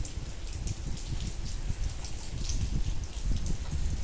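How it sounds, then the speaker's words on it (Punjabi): Steady, continuous rain falls through a damp, chilly day onto a muddy road outside, a dense close patter of drops with scattered heavier splats and no voices. "ਜੋ ਸਵੇਰ ਦਾ ਮੀਂਹ ਸ਼ੁਰੂ ਹੋਇਆ, ਹਾਲੇ ਤੱਕ ਚੱਲੀ ਜਾਂਦਾ ਚੱਲੀ ਜਾਂਦਾ, ਵੇਖੋ ਕਿਨ ਮਿਨ ਮੀਂਹ"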